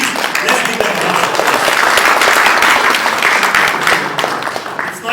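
Loud, dense applause from an audience at a leadership symposium, welcoming guests from political parties, sustained steadily for several seconds with many overlapping claps.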